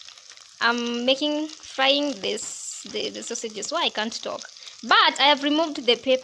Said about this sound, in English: so I'm frying this, the sausages